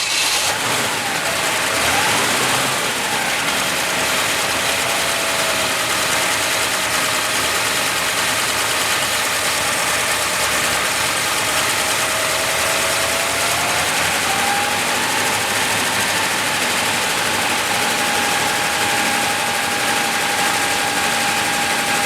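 A 1958 Chevrolet Delray engine idles steadily and smoothly, loud and close, with a constant broad rumble and a faint whine that rises slightly midway.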